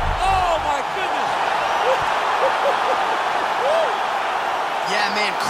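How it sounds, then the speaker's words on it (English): A video game arena crowd in EA Sports UFC 4 boxing roars loudly and steadily after a knockout, a dense continuous cheer with bursts of whistles and shouts. "crowd loving it"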